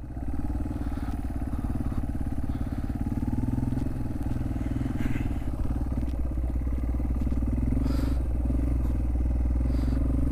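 A Yamaha XT225 motorcycle engine idles steadily close by, a continuous low chugging thump with light mechanical clatter and no pauses.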